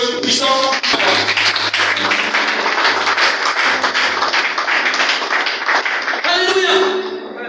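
A church congregation breaks into sustained applause during a francophone worship service, dense clapping filling the space, with voices and a low sustained tone underneath.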